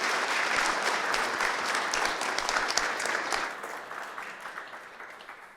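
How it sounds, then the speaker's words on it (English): Audience applause at a talk on environment storytelling for video games, dense steady clapping from a large crowd that thins and softens toward the end. "So let's have another round of applause."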